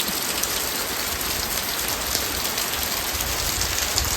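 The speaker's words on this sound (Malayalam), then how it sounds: "അപ്പോഴേക്കും നല്ല മഴ വന്നു" Heavy rain pours down steadily, a dense, constant hiss of drops striking surfaces with no pauses and no voices.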